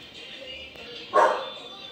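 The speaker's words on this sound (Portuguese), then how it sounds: "tem um cachorro latindo" A single short dog bark rings out at a moderate distance over a quiet background hum.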